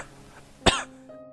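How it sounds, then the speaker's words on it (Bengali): A single sharp cough rings out close by inside a dusty, abandoned house full of cobwebs, with faint steady background hum before and after. "ঢুকেই কাশি শুরু হয়ে গেল।"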